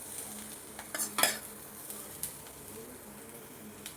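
Roasted masala for a fish curry is scraped from a pan into a bowl with a metal spoon, producing a few sharp clinks and scrapes over a faint sizzle, loudest in the opening seconds.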